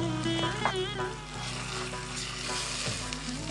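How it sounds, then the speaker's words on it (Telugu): Cumin and ginger garlic paste sizzle steadily in a hot pan, a continuous close frying hiss with light stirring scrapes and no voices. "ఇది కొంచెం గోల్డెన్ బ్రౌన్ వచ్చే వరకు మనం వేయించుకోవాలి"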